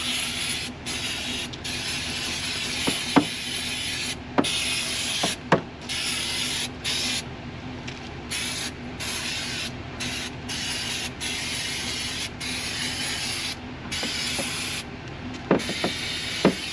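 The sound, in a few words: spraying cleaner on a vehicle part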